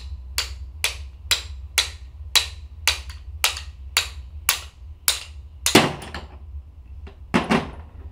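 Hammer tapping on an engine part during a repair, about a dozen sharp, evenly spaced metallic knocks close by, ending with two louder, rougher strikes, no talking.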